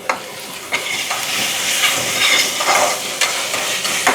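Ginger garlic paste frying and being stirred in hot oil for chicken biryani: a continuous close crackling sizzle punctuated by repeated spoon scrapes and taps against the pan.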